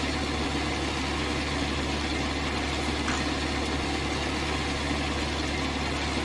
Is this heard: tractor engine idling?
yes